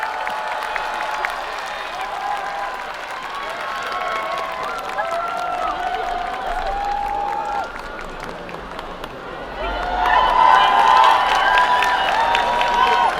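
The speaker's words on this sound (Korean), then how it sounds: "여러분 뜨거운 박수 보내주십시오." A festival crowd applauding and cheering at the closing ceremony of a Yi Sun-sin festival in Asan, a steady wash of claps and voices that swells louder toward the end, with sung tones over it.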